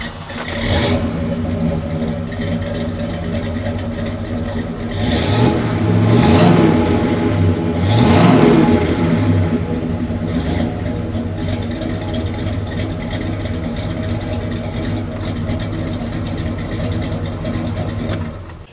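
A 1967 Oldsmobile 442 W-30 Ram Air muscle car idles with a loud, lumpy rumble, then is revved twice in sharp, rising bursts before settling back to a steady idle. It is close and there is no talking.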